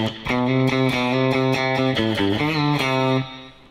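Electric guitar playing an intro lick, a twangy country phrase of distinct picked notes and bends, played clearly and alone with a short decay at the end.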